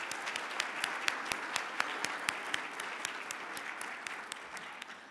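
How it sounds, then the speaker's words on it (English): Steady applause from an audience at a neighborhood awards ceremony, a dense patter of many hands clapping with a few sharper, closer claps standing out, moderately distant and fading slightly toward the end. "Let's give them a round of applause."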